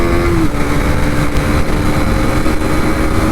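A Hero Xtreme 250R motorcycle's engine hums steadily while riding, a loud continuous drone with wind noise and no breaks.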